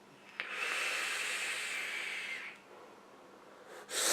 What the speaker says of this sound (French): On fait une très belle vapeur, on reconnaît bien le type de liquide américain.